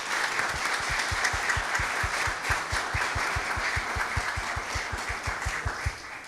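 A crowd applauds warmly for a merengue singer at a live music event, a dense wash of clapping over a steady low rhythmic beat that keeps pulsing underneath throughout.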